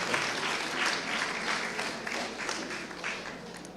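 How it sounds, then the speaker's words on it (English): Audience at a grades 9-10 spoken word poetry event giving sustained, dense applause after a poem, loud and continuous throughout. "Let's give her a round of applause."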